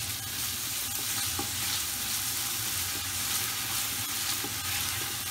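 Diced brown onion and crushed garlic fry in vegetable oil in a pot over medium heat, a dense continuous sizzle with occasional faint stirring taps, close and steady.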